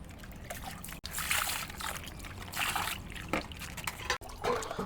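Water trickles and sloshes as bones are washed with turmeric in a bowl, with short splashes and dribbling pours coming in bursts, fairly quiet and close.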